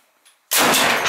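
A Serbu BFG-50A .50-caliber rifle fires one shot under a roof, an abrupt, extremely loud blast that hits after a near-silent moment and rolls on as a heavy echoing roar.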